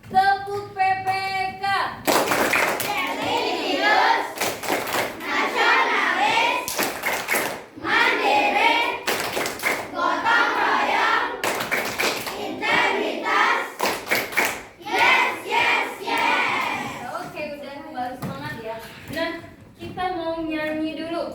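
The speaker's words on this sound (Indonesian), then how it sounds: "Semuanya tepuk PPK." Classroom of children clapping the rhythmic Indonesian tepuk PPK routine, loud bursts of rhythmic hand claps alternating with group chanting, a teacher's voice leading at the start and end.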